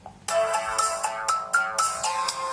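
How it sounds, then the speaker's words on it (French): An UMIDIGI A5 Pro smartphone plays its ringtone through its speaker: a loud, bright melodic pattern of repeating chime-like notes in a quick rhythm, close and clear, with no talk. "on va écouter la sonnerie du téléphone"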